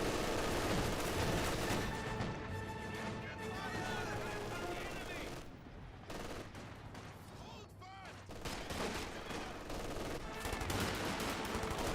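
A Sd.Kfz. 222 armored car fires its autocannon on a 120mm mortar in Company of Heroes 2, with rapid gunfire and explosions in a dense, continuous battle mix under a caster's talk.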